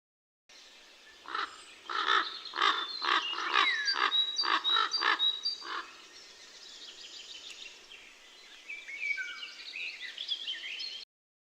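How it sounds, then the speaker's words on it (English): A common raven gives a rapid series of hoarse, croaking caws for several seconds, close and clear. Softer bird calls and chatter follow against a faint hiss. "Common raven."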